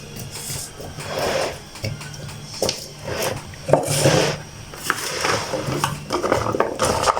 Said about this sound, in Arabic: نقلبه تقليبه كمان كده بسم الله. نعبي كده